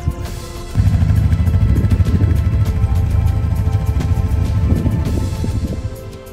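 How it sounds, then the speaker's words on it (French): Quad bike riding in the desert near Marrakech: a steady, loud engine drone and wind-blown clatter run throughout, rising sharply after a quieter opening second. "Maintenant on va faire un petit peu de quad. On change de moteur."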